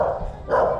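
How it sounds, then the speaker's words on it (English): A dog barks near a vegetable garden at a Tagaytay zoo, two loud barks about half a second apart, with a voice speaking over them. "Dog!"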